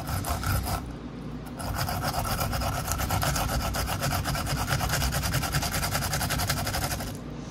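Garlic scraped across a new garlic grater gadget gives a rapid, regular rasping, close and steady, with a brief first pass followed by a longer run of quick strokes.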